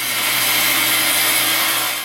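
A power saw cuts through a sheet of 1/2-inch plywood in one continuous, steady whine with a bright hiss, close up and unbroken for about two seconds.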